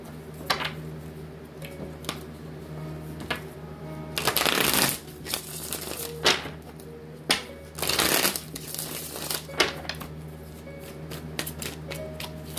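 Tarot cards being shuffled, with several bursts of riffling and bridging spread over the span and softer card handling and taps between them, close and fairly quiet, no talking.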